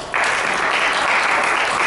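Audience applause at a live talk and demonstration, bursting in after a brief quiet and then holding as steady, dense, loud clapping from a crowd nearby.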